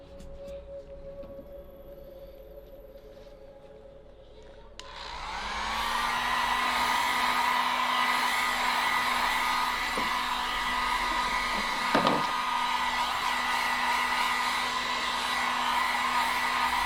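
A hair dryer switches on after a few seconds of quiet and blows steadily and loudly to dry an alcohol ink flower painting, its whine holding an even pitch to the end.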